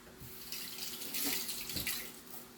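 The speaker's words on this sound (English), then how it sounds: "So let me rinse this thyme off." A kitchen tap runs steadily as fresh thyme is rinsed under it, the water stream swelling and splashing briefly as the sprigs are moved through it, fairly quiet and close, with no talking.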